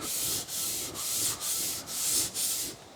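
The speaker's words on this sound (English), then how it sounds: "You can see the material coming off on the sandpaper." The sole of a Starrett 199 master precision level rubbed back and forth on sandpaper, a close, steady rasping in about six even strokes separated by brief pauses at each change of direction, with no talking.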